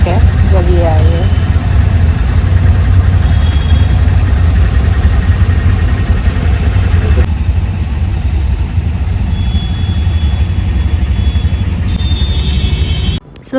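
Car engine idles in city traffic with a low, steady rumble, close and prominent, while other traffic noise sits in the background.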